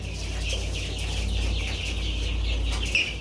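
A flock of about a hundred chickens clucks continuously and close by during a Ranikhet vaccination session, with a steady low hum underneath and no talking.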